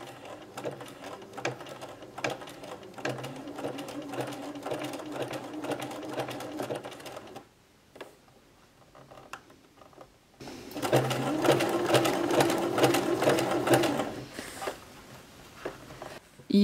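A sewing machine stitches fabric for rag doll bloomers, running steadily and close for several seconds, pausing briefly, then starting up again with a louder, quicker stitching rhythm.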